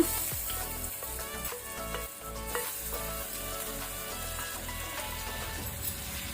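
Ginger garlic paste and green chilli paste sizzle steadily in a hot pan for a prawn masala, with a continuous close frying crackle and a few soft utensil knocks.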